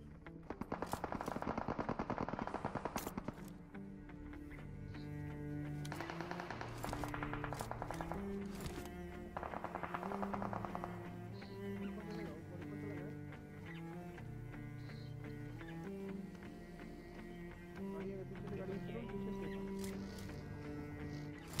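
Automatic gunfire sprays in BGMI, the mobile battle royale, with rapid bursts of firing, loudest early on, then a continuous busy game mix of shots and effects at moderate level.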